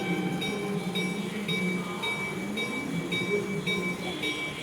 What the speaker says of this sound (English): There is one small train coming down here.